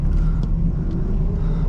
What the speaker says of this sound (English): we're gonna take this for a drive around the block